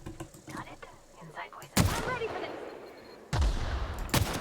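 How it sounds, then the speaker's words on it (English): In the video game The Outer Worlds, loud sudden explosions and gunfire burst out in a couple of sharp, booming hits. Softer, scattered shots sound between them while a person talks. "Oh, it died because of the explosion."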